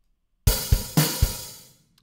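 Superior Drummer software drums play a short fill of four punchy hits, kick and snare with a crash, that rings out and fades within about a second, alone and with no voice.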